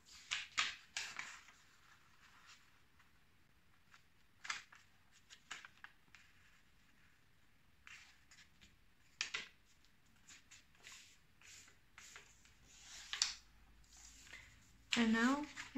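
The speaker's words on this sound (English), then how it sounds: "We will fold it in a diagonal." Paper is folded diagonally for an origami tulip, with scattered crisp rustles, crinkles and sharp creasing snaps near the microphone over a quiet background.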